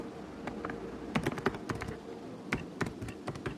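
Typing on a computer keyboard while entering points into a Microsoft Excel spreadsheet: scattered, irregular key clicks in short bursts, close but quiet, with no talking.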